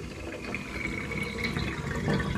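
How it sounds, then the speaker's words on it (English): Water drains from a sink down the plughole after the plug is pulled, giving a continuous gurgling, trickling rush that grows slightly louder, close up and with no talk. "Which way does the water swirl when it goes down the plug hole?"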